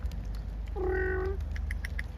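A single drawn-out meow from one of four black-and-white feral kittens beside an abandoned house, clear and fairly close, rising out of a steady low background hum with faint chirps afterward.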